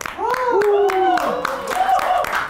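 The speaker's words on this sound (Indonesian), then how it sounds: "Banyak Tepuk tangan ya" Scattered hand claps from a small studio audience on an Indonesian entertainment talk show, sounding as a string of sharp claps mixed under lively, gliding voices and laughter.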